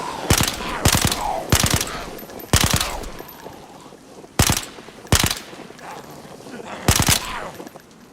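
Gunfire from a weapon in the video game DayZ: sharp, loud shots, mostly in quick pairs, repeating at irregular intervals over a faint background hum.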